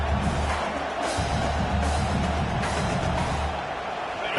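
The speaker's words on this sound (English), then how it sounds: "how nice is it to have the home crowd going absolutely bananas?" Home crowd at a Cal vs Virginia Tech college football game, a loud, sustained roar of cheering that fills the stadium and swells in waves throughout.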